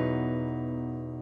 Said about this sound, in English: That's a B with an E in the bass.